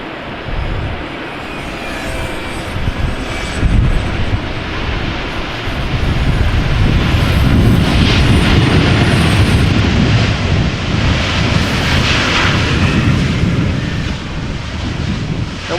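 Airbus A350-900 airliner touching down on landing at Amsterdam Schiphol Airport in gusty crosswinds, a loud continuous low engine roar and rumble that builds midway and stays steady throughout, heard from outdoors near the runway.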